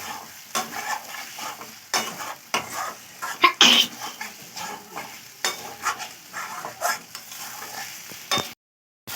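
Eggs and whole onions stir-fried in a pan for a curry, with irregular scraping and clattering strokes over a steady sizzle, cutting off abruptly near the end.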